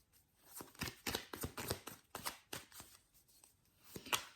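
Tarot cards shuffled by hand in a string of quick riffling, slapping bursts, close and fairly quiet, with no talking over them.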